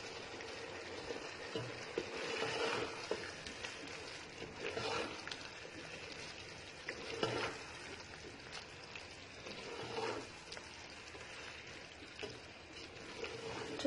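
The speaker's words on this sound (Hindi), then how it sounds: "इसके साथ ही मैं यहाँ पे बंद गोभी ऐड कर देती हूँ। अब इसे मिक्स कर लेते हैं।" Sauce and shredded cabbage being stirred together in a frying pan for a chicken macaroni dish: a steady low hiss with soft, irregular scraping and clatter every few seconds, fairly quiet, with no speech.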